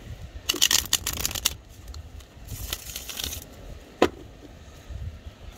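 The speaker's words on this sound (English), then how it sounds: "Okay, one more shuffle." Tarot cards riffled and shuffled in several quick bursts, close by, with a sharp tap near the end and quiet pauses between.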